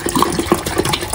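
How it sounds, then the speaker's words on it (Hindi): Water from a jug is poured into the tank of a countertop ice maker, a steady close-up trickle and splash that stays continuous throughout with no talking. "तो मैं अब इसमें पानी भर रही हूँ।"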